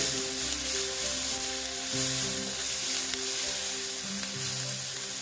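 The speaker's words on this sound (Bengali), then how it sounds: "নুনটা দিয়ে আবার একটু আমি এটা ভেজে নিচ্ছি" Salted egg chop filling frying steadily in a pan, a continuous close sizzle with faint stirring scrapes throughout.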